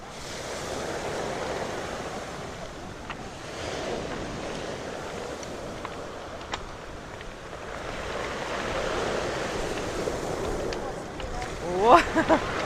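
Sea waves breaking on a shore near Vladivostok, a steady broad wash of surf with gusts of wind across the microphone, people talking quietly over it.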